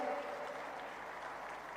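Steady applause from a festival audience fills the whole moment, a dense continuous patter of many hands clapping at moderate volume.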